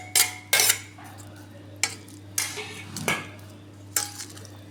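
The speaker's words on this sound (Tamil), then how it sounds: "ஆட் பண்ணி நல்லா மிக்ஸ் பண்ணிக்க வேண்டியதான்" A spoon stirs cooked chicken, mayonnaise and vegetables in a bowl for shawarma, giving sharp metallic clinks and scrapes in uneven bursts over a low steady hum.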